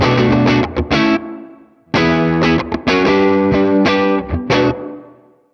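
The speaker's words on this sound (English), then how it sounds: "And at the far left, you'll have a nice dark reverb tail." Electric guitar chords run through the Morgan Amps Suite reverb with the filter turned fully left for a dark, muted tail; repeated loud strums ring and decay, played alone without voices.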